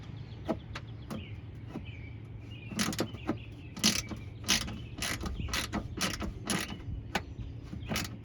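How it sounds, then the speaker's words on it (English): Ratchet tightening a fender bolt under a car hood, a string of quiet clicking strokes, some single and some in quick bursts, recorded close in a fairly quiet shop. "Gotta tighten up our fender bolt here."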